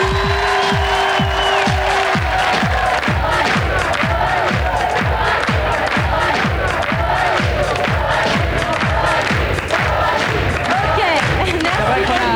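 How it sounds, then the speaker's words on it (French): A studio audience at a 1996 French television show cheers and applauds for a psychedelic DJ, with a loud, dense crowd roar over a steady, rapid pulsing beat of music throughout. "nous allons accueillir et applaudir très très fort notre DJ complètement psychédélique, Joachim"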